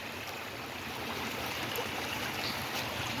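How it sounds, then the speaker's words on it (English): A flooded stream in Kentucky rushes along outdoors after heavy rain, a steady broadband wash of water. It stays fairly faint throughout and no one speaks. "a lot of people like the sound of running water, so I'll shut up for a second."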